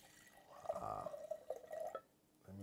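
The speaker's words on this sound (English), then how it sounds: "So we have the clay pot ready, and let's pour in." Very chilled toddy is poured into a clay pot, making a quiet, close trickle and splash for about two seconds before it fades.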